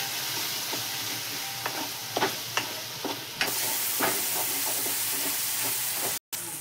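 Five or six curry leaves crackle and sizzle in hot oil over sautéed onion and tomato for a potato bhaji, a dense close fry with sporadic sharp pops and a few stirring scrapes, no talk.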